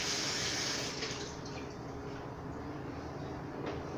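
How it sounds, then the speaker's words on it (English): Water pours steadily into a pan of mussels being prepared for steaming in the oven, a continuous rushing splash that thins out partway, with no talk. "I do add a little water at the bottom."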